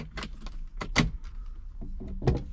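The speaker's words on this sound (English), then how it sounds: "when I go to the car, turn on the ignition" A set of keys jangles and clicks as the ignition of a Ferrari is switched on after a fuel sender repair. The sharp taps and rattles are close and moderately loud, and the engine is not started.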